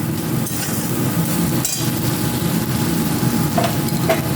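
Chicken cooking in a pan with spices and a little oil for a homemade mixed biryani; continuous close sizzling and stirring with a few sharp spoon knocks against the pan, no talk.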